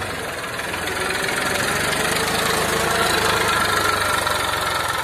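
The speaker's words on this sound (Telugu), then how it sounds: "అమ్మా ఇంజిన్ ఆగిపోతుంది" A Massey tractor engine idles close by, a loud, continuous diesel chug with a steady knocking pulse that holds evenly for about five seconds.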